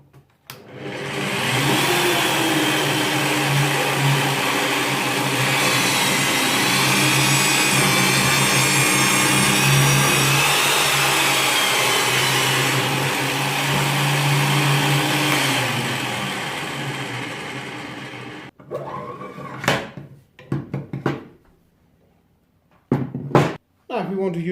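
A Parkside PTBMOD 710 A1 bench pillar drill with electronic speed control runs steadily, its motor whine rising and falling for about eighteen seconds, then stops, followed by short clicks and knocks of handling.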